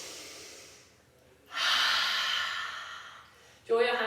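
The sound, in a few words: audible exhale during postnatal yoga goddess squat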